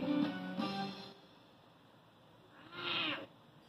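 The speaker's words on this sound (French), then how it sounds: "Je suis un petit chat sauvage tout rayé et je sais comment me cacher." A small striped wild cat gives two short meows, the first a rising harmonic cry, the second a thinner higher mew after a pause, both close and clear against a quiet background.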